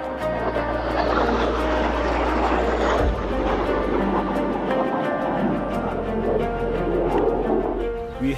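Nigerian Air Force Alpha Jet aircraft engine running loud and steady, a continuous jet roar with a tonal whine, close by and without talk.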